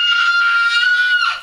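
A baby screams in one sustained, piercing high-pitched cry lasting over a second, close and loud, then trails off at the end, in a home setting.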